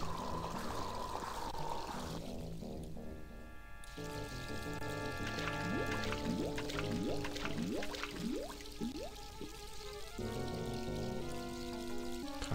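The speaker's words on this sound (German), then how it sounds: "So ein Wassersack gefüllt." A water bag is filled at a well in the DOS game Stonekeep, a soft continuous pouring and gurgling with rising bubbling tones, heard quietly over steady game background music.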